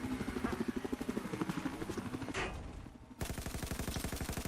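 Rapid automatic cannon fire from a jet aircraft in the video game Battlefield 4, fast evenly spaced bursts of shots under a droning engine, briefly pausing before the stream of gunfire resumes.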